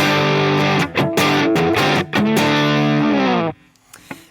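A distorted electric guitar through an Avid Eleven Rack amp modeler, with no effects, strums chords loudly up close, then stops abruptly. The sound is dry, with little ring afterward.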